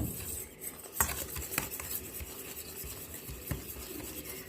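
A spoon scrapes and clinks around a bowl while a face pack mixture with oil is stirred, with soft rubbing strokes and a few sharp taps, quiet and close with no voices.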